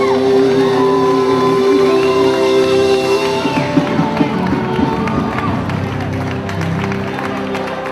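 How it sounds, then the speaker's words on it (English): A wedding crowd applauds with scattered whoops and shouts, steady clapping under background music, fairly loud and continuous. "Nice round of applause."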